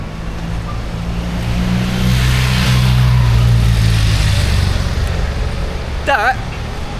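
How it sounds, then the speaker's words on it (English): Buses in Valencia street traffic rumble past a skateboarder, their engines swelling loud and close over several seconds before fading under continuous rolling street noise. "Buses."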